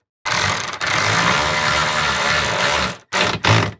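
A power driver runs a self-tapping screw into a hydraulic hose clamp, a loud steady whirring burst of nearly three seconds, followed by two short bursts, close up with no talking.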